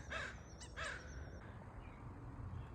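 An American crow caws outdoors, two to three hoarse, faint calls in quick succession at moderate distance over a low background hum.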